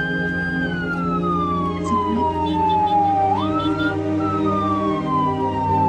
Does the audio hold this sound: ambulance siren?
yes